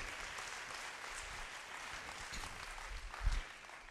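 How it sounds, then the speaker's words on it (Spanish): A church congregation applauds faintly and steadily at a distance, a soft, even wash of clapping with a slightly louder thump near the end. "dales un aplauso aquí a los varones valientes"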